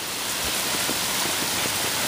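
Heavy rain falls in Ocean City, New Jersey, a dense, even hiss of downpour close around with no talk.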